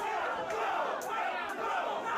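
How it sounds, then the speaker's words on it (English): A wrestling crowd at a Beyond Wrestling show roars steadily through a brawl, a dense, continuous wash of cheering and shouting that stays loud throughout with small swells, with no clear single voice above it. "The Beyond crowd appreciating."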